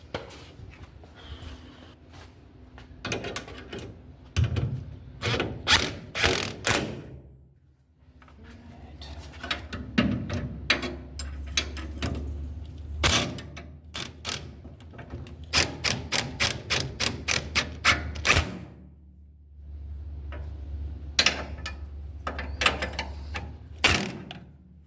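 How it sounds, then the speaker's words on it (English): A 3/4 wrench turns a bolt on a 1967 Chevrolet C10, with repeated bursts of sharp metallic ratcheting clicks separated by short pauses and a low background rumble. "I'm gonna get a 3/4 wrench because I know it's gonna spin."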